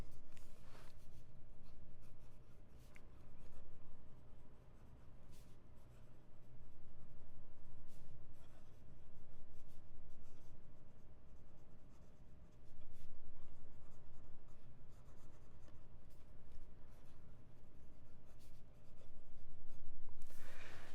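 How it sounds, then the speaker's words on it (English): An Aurora Optima fountain pen with an italic nib scratching across paper, a close steady stream of writing strokes with brief pauses between bursts. "fast writing with this pen is not going to be easy because you need a perfectly flat surface"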